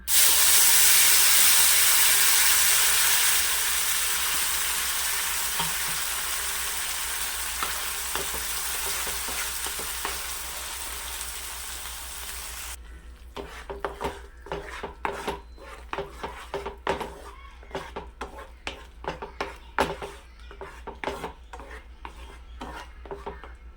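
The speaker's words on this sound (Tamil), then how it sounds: "அரைச்சி வச்ச ஆப்பிளை ஃபுல்லாக ஊற்றிக்கிடுவோம்" Ground apple puree poured into a hot pan for apple halwa, with a loud hiss of steam and sizzling at first that gradually settles, then close scraping and stirring clatter against the pan with no talking.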